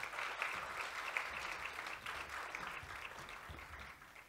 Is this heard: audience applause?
yes